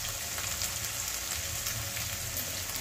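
Ginger and garlic fry in a pan for a Bengali duck egg curry with cauliflower and peas, giving a steady, even sizzle that holds at a constant moderate level throughout, close by and with no voices.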